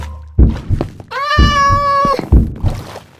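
Cats meow in the blocky game Minecraft, two or three loud, close, drawn-out mews set between soft thudding footsteps, with no talking.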